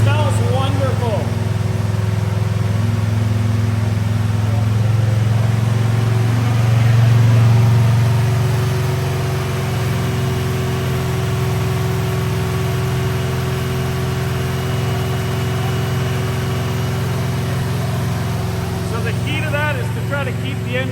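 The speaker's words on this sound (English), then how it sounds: "Try to keep the engine cool while you warm it up enough for about 20 minutes. I hate doing it. It makes too much noise." An engine runs steadily during camshaft break-in on a truck, a loud, constant low idling drone with a slight swell in the middle, and voices are heard over it.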